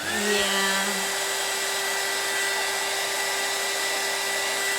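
A hair dryer blows steadily to dry glue on a honey bee cup craft, a constant close whoosh with a steady whine throughout, no talking.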